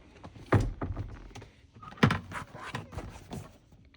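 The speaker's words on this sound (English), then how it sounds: "So you open the door, you basically go back here" DeLorean car door opened, a couple of solid mechanical thunks and latch clunks with handling rattles, close and fairly loud with no talking.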